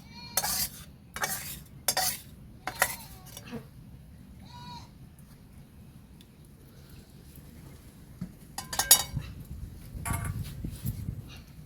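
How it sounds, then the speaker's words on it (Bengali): Amra chutney is poured out of a cooking pot: several short, sharp scrapes and clatters of utensil against pot come in quick bursts, then a quiet stretch, then more scraping near the end. "চাটনিটা হয়ে গিয়েছে, আমি এবার ঢেলে নেব।"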